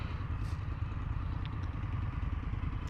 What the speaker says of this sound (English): This motor doesn't really shake too bad at idle.